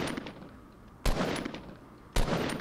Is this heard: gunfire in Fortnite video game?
yes